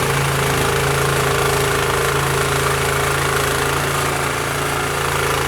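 Snow blower engine running on a snowy driveway, a loud continuous rumbling drone with a steady mechanical throb and no pauses.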